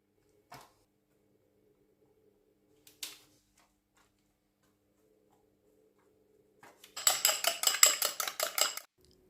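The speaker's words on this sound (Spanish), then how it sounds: "Pinchamos un poquito con un tenedor para que después en el horno no se infle demasiado." A fork pricks pastry dough for mini apple tarte tatin, with a few isolated taps followed by a quick run of close, crisp repeated pokes.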